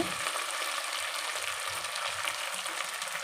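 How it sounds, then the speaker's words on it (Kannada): Tomatoes frying in a pan for tamarind beaten-rice chitranna, a dense, even sizzle close up with faint stirring scrapes underneath. "ಟೊಮೊಟೊ ಹಾಕ್ತಾಯಿದ್ದೀನಿ"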